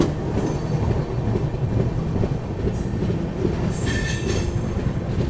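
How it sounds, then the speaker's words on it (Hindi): The 12004 Lucknow Swarna Shatabdi express runs at speed after leaving Etawah Junction, a steady rumble of wheels on track heard from inside the coach, with high metallic squeals of the wheels rising toward the end. "गाड़ी अपनी देखिए 2 मिनट के हॉल्ट के बाद इटावा जंक्शन से भी निकल चुकी है।"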